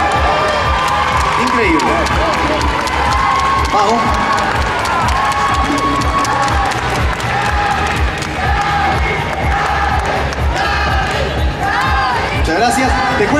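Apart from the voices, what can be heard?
pageant audience applause and cheering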